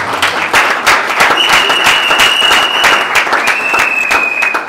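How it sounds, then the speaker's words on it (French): An audience claps and applauds at a school diploma ceremony, dense sustained applause close and loud throughout with a faint tonal whine above it. "On peut applaudir pour le secrétaire."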